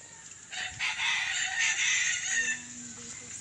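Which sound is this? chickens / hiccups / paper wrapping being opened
chickens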